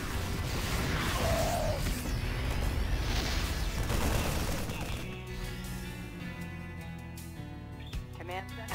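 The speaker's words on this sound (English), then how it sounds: "Our forces have opened fire." Dense battle noise from StarCraft II gunfire, with overlapping bursts, crashes and booms filling the first five seconds before thinning into scattered hits and ringing tones. A game voice may sound faintly in the mix.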